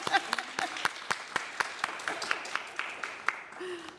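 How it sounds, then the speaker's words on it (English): Congregation clapping at a Sunday church service, a scattered round of hand claps with sharp individual claps over a soft crowd murmur, moderately loud and close. "You can clap, it's okay."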